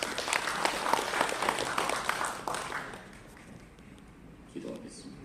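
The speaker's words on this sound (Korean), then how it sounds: "박수로 한번 환영하겠습니다" A church congregation claps to welcome the pastor, a dense broadband patter filling roughly the first three seconds, then thinning and fading to quiet with a brief soft sound near the end.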